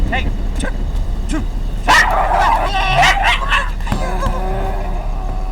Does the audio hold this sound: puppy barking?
yes